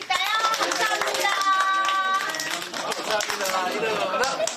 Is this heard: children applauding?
yes